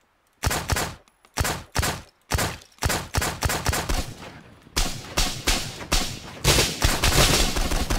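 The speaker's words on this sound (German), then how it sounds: "Ich schieß." Bursts of gunfire from a gun in the video game Miscreated, loud and close: several separate volleys with short gaps, then a longer, nearly continuous stretch of rapid automatic fire.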